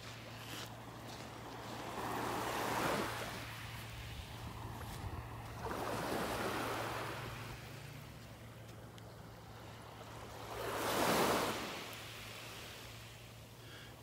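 Gentle surf on the beach at North Naples, Florida, with waves washing ashore in slow surges about every four seconds, over a steady low wind rumble at the microphone.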